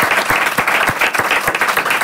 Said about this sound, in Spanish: un aplauso para ellos, por favor, que producen esta movida